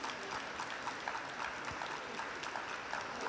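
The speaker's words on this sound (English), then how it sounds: "And by that clapping" An audience claps steadily in an ice rink during a Junior Grand Prix ice dance rhythm dance event in Courchevel, a dense, even wash of applause heard from a distance.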